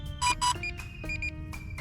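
Short electronic beeps from a DJI Mini 3 drone pairing, in a quick irregular pattern, a few high tones pulsing close by over faint background hum.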